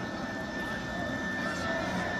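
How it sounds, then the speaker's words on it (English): Helicopter landing beside a boys' lacrosse game, a steady distant engine whine and rotor drone running continuously in the background under crowd ambience and faint talk. "Helicopter just landed in the middle of Ridley."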